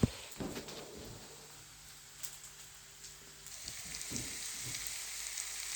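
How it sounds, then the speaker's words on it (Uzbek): Sausage frying in a pan, crackling and sizzling quietly and close by with scattered pops over a soft, continuous hiss, and no voices. "Buni ham biroz qovuramiz"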